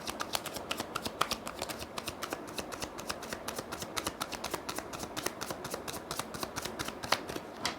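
Tarot cards are shuffled steadily, giving a brisk, even run of close, crisp paper flicks and riffles that sounds clear and unbroken with no talking.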